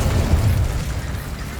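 The Incendio fire spell in Hogwarts Legacy bursts as a loud, low, rumbling whoosh that fills the whole short moment with no voices.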